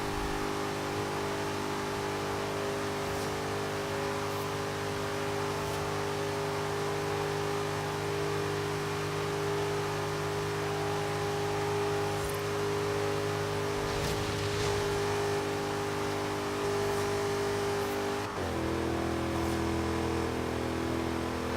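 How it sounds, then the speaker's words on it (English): A racing car engine in the Forza video game drones steadily at high revs throughout, loud and continuous, with a brief pitch drop near the end as it shifts or eases off. "I swore I heard another engine there for a second"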